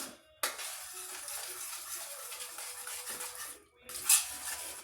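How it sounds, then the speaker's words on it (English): A spatula scrapes and clatters against a pan while eggs are scrambled Denver style, a steady close scratching and stirring with a brief louder clink near the end, no one talking. "once you start scrambling, start from the center, just kind of work it"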